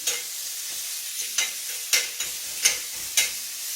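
Small pieces of bacon fry in a pan with a steady hiss, punctuated by several sharp, brief scraping or stirring bursts at irregular intervals.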